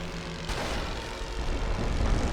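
Droning propeller engines of Great War fighter aircraft in a video game, a loud, steady buzzing roar that grows slightly stronger toward the end, with no voice heard.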